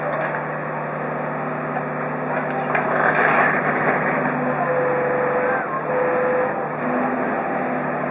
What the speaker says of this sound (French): ce véhicule est compressé à l'intérieur de ce compacteur